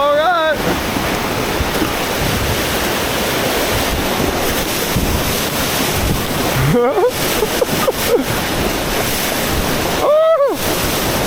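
Rushing whitewater of the Eisbach river standing wave in central Munich, a loud, continuous broadband roar of surf close to the microphone with wind buffeting and brief splashes as surfers drop in.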